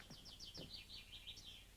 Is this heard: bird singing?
yes